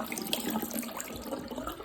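Water runs steadily from a tap into a sink while fidget toys are washed, a continuous splashing hiss with small irregular splatters throughout, fairly close and moderately quiet, with no one talking.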